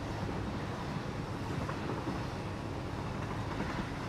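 Train rolling along in a video game, a steady, dense rumble and rush that holds constant throughout, with no talk.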